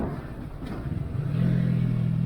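A motorcycle engine, ridden while practising a wheelie, climbs into a loud, steady rev as the throttle is opened again after a gear shift, following a lower, rougher idle-like rumble.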